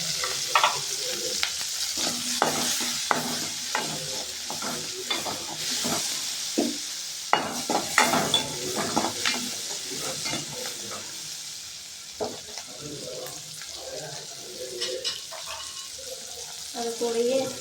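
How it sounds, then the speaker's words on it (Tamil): Chopped onions frying in a little oil in a vada pan, with crackling sizzle and intermittent scraping stirs, some water-like splashing, close and moderately loud throughout. "இந்த வடை சட்டியிலேயே கொஞ்சமாக எண்ணெய் ஊற்றி நம்ம தொளிச்சு வச்ச வெங்காயமெல்லாம் போட்டுக்கலாம்."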